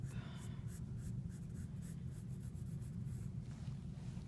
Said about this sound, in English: Then the shape of this lip. We're still sketching.